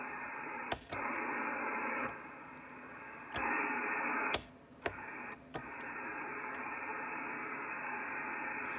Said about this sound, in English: I'm hearing just a faint bit of the other station there